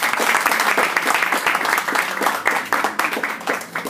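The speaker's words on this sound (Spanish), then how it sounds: "Un aplauso, por favor." A conference audience applauds after a software project presentation, with dense, steady clapping that holds for several seconds and fades slightly toward the end.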